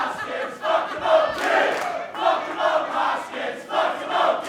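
Wrestling event crowd at a Match-A-Mania show roaring and shouting in continuous, swelling waves, loud and sustained with surges of cheering throughout.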